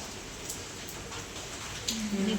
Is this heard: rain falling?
yes